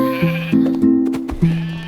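Sheep bleat in quick succession, several loud, wavering calls close by that overlap one another over a few seconds.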